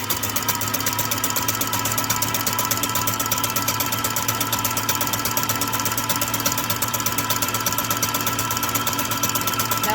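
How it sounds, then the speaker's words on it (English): An electric mixer beats cream with a teaspoon of vanilla essence for a coffee crisp chocolate bar filling, whirring loud and steady with a rapid mechanical rattle and no pauses or voices. "we're gonna keep beating it until creamy"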